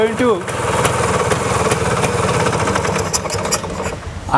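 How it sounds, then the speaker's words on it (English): A small Vespa scooter engine idles close by with a steady, fast putter that stays even throughout. "Now this is the second time I started it, and now it's idling fine."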